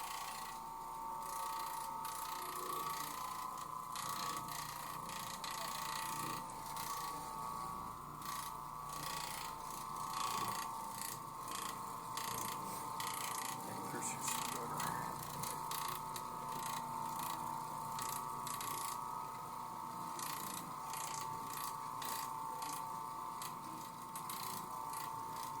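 An Oreck Orbiter floor machine works over a pet-stained carpet, giving a steady motor hum with a constant whine and a rapid ratcheting, grinding clatter that runs unbroken and close.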